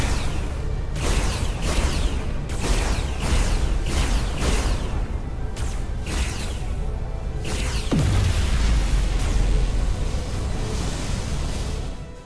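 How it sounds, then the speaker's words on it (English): A dilithium crystal explosion in the Star Trek: Resurgence video game, a heavy boom with a deep falling rumble rising out of a dense roar of pulsing blasts and whooshes, loud and continuous. "Whoa! Dilithium explosion."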